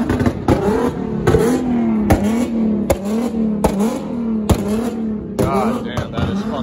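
A Nissan Stagea wagon with an RB25 engine revs hard at a JDM car meet at a New Jersey raceway. Loud, close engine roar with repeated sharp bursts over a steady drone.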